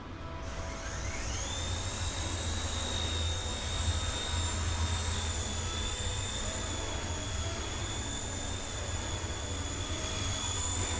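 A high, steady motor whine with a rising pitch at the start, a Blade Nano S3 small remote-control helicopter spinning up and hovering indoors in an atrium, continuous and fairly loud.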